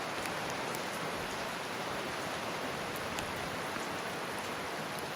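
Steady downpour in a courtyard, a broad unbroken wash of falling rain with occasional sharper drips nearby, loud and continuous, with no voices.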